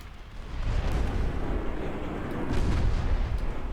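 Naval shells firing in a strategy video game, a continuous dense rumble of distant booms and blasts with no talking.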